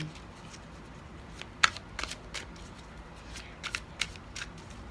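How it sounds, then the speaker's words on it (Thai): Tarot cards being shuffled and shifted on a reading surface, with several quiet papery riffs and flicks spread across a low, steady background. "เราขอขยับไพ่หน่อยไพ่มัน ที่มันเหลือเยอะเนาะ"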